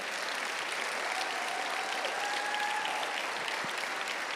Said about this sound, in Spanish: si alguien quiere darle el aplauso, dáselo a él